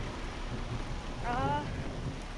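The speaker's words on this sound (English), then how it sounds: "It's raining hard, guys." Heavy rain pours steadily outdoors near cliff dwellings, a dense, even hiss filling the whole stretch, with a brief voice sounding faintly underneath midway.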